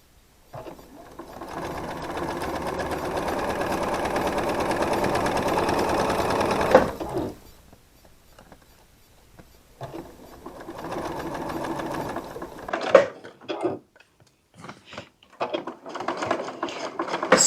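A sewing machine stitches a rainbow quilt of half-square triangles, running in one long steady whir and then switching to shorter stop-start bursts of stitching through thick seams.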